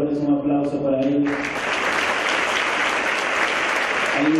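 A studio audience breaks into sustained applause on a Dominican morning TV show in Santo Domingo, starting abruptly after a short musical or voiced passage and holding steady and loud to the end.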